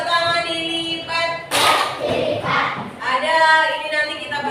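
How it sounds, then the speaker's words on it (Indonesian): An elementary class of fourth graders does the folded-hands clap: a couple of dull, broad claps from the whole group, with children chanting before and after. "Tepuk tangan dilipat."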